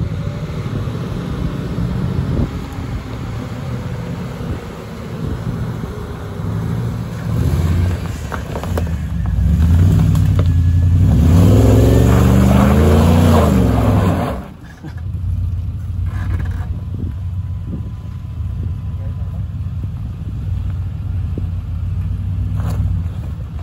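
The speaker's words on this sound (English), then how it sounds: "Let's watch the V8 do this corner." A supercharged V8 Range Rover L322 works through a corner on an off-road lane, its engine rumbling loudly, swelling into a heavy drawn-out growl midway, then dropping off before settling back to a steady low drone.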